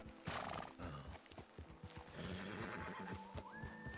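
A horse in the video game Red Dead Redemption 2 gives a loud, drawn-out neigh, with hoof clip-clops and ambient game sound beneath it.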